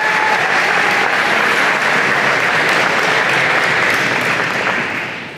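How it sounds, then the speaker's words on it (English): At a college of engineering and computer science convocation, a large audience applauds new faculty and staff in a loud, continuous roar of clapping that stays even and then tapers off at the very end. "Let's give them a big round of applause"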